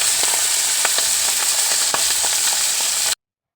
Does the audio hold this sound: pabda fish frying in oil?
yes